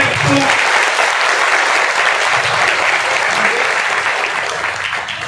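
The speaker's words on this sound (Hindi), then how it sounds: "मैं आप लोगों से फिर से एक बार ताली बजाने का गुजारिश करूंगा" A large crowd at a Suheldev Jayanti gathering in Ahmedabad applauds, loud sustained clapping with a broad roar of many hands, briefly overlapping a voice at the start and easing slightly toward the end.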